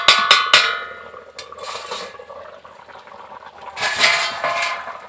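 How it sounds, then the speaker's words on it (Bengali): A metal lid comes off a pot of chicken curry boiling with potatoes, making a few sharp clanks and scrapes near the start, then a bubbling hiss and more metallic rattling toward the end. "এখন আমি ঢাকাটাকে একটু খুলছি।"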